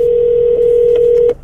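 A steady single-pitch phone call tone plays inside a Land Rover Range Rover Evoque D180 SE, loud and continuous for over a second before cutting off, with faint clicks near the end.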